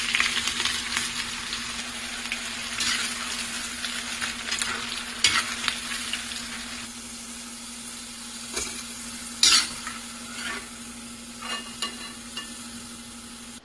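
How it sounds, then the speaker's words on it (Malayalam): Beetroot fries deep-frying in hot oil, a soft continuous sizzle with scattered clinks and scrapes of a utensil stirring in the pan, close and fairly quiet, with a steady low hum beneath. "പിന്നെ നല്ല ചൂട് എണ്ണയിൽ നമ്മൾ വറുത്ത് കോരി എടുത്ത് വെക്കണം."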